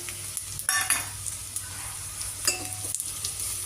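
Onions sizzle and fry in hot oil as sambar powder, turmeric and chilli powder are added, a steady crackling hiss broken by a few louder stirring scrapes of a utensil in the pan.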